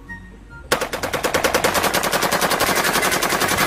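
A UMP submachine gun opens fire in a long, rapid continuous burst, sharp evenly spaced shots close and loud, after a brief quiet moment.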